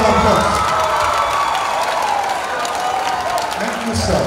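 A university convocation audience at a stage play applauds and cheers in a steady, dense wash of clapping and shouts that lasts the whole stretch, with a voice speaking over it.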